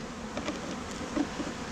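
Bees at a mini bee hive make a continuous low buzzing hum that stays close and steady, with a few slightly louder swells and no talk.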